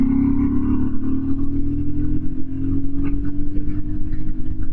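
A Royal Enfield Himalayan motorcycle with a Delkevic aftermarket exhaust drones steadily and close on the road, a mid-pitched engine note holding under wind rush with small rises in revs and no talk.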